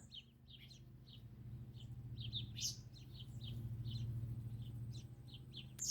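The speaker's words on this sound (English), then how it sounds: "I think it's just the birds that fly in there." Wild birds chirp inside a chicken coop, quick repeated tweets scattered over a steady low hum of the coop, with a soft rustle near the middle.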